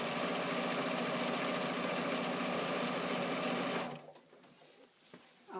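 An industrial sewing machine runs a steady, fast stitching whir for several seconds while sewing a channel, then stops abruptly, leaving faint handling noises.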